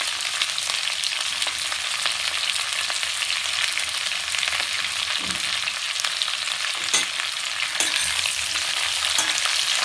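Onions and green chilies frying in a pan for Methi Malai, giving a steady, bright crackling sizzle throughout with occasional stirring clinks and no voices.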